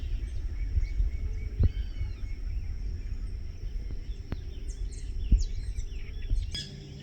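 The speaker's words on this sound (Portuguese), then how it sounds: "Esse arzinho puro, só os passarinhos cantando, olha a paz desse lugar" Birds singing in the countryside at Colônia Witmarsum, Paraná, with scattered faint chirps and short calls over a quiet, low rumbling outdoor background.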